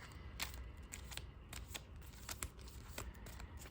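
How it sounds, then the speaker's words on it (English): Digimon trading cards are shuffled at close range, a quiet series of quick papery riffles and snaps in an uneven rhythm with no talking. "Get a quick shuffle here."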